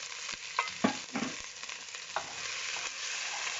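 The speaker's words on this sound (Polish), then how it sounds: "Przesmażamy to przez chwilę." Bell pepper, ginger and garlic frying in coconut oil over high heat, a steady close sizzle with a few stirring clatters near the start.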